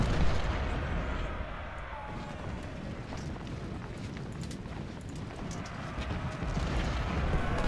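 Dense, continuous battle noise from the Civil War strategy game Ultimate General: Civil War, with rolling gunfire and artillery booms filling the scene at steady loudness throughout.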